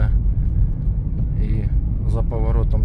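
Steady low road rumble from inside a moving 2016 Suzuki SX4 automatic, with someone speaking briefly over the engine noise.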